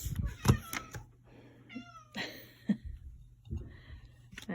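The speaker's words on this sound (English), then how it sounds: "That's one of my cat, Emmett." A house cat meows several times close by, short rising and falling cries mixed with soft breathing and rustling, heard at low volume with no talking over it.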